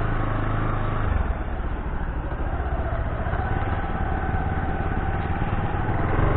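A Bajaj Pulsar NS 160 motorcycle engine runs steadily after its third service, a continuous close, even mechanical drone with no speech.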